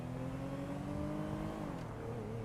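A Primo car in GTA V Online drives with a steady engine hum whose pitch holds and then drops slightly as it eases off, continuous and moderately quiet with no talking.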